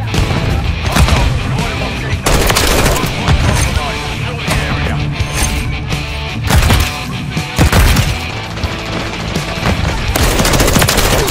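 Dense, sustained automatic gunfire from Call of Duty: Modern Warfare 3 (2023) multiplayer, loud and continuous with overlapping bursts and occasional heavier booms throughout.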